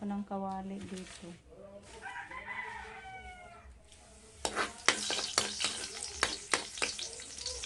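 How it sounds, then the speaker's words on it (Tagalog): Aromatics being sautéed in a frying pan at home to cook vegetable lumpia: a few seconds of talk and a rooster crowing in the background, then sizzling and clattering stirring strokes up close. "gisahin muna natin yung ating ricado"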